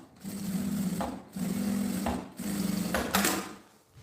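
A sewing machine stitches a seam in three close, steady runs of whirring, each about a second long, separated by brief pauses.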